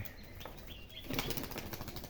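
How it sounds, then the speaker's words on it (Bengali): Pigeons released by hand burst into flight, giving a sudden close flurry of flapping wings that swells about halfway through and keeps fluttering to the end, with faint chirps just before. "যে আরো কবুতর এড়া হচ্ছে"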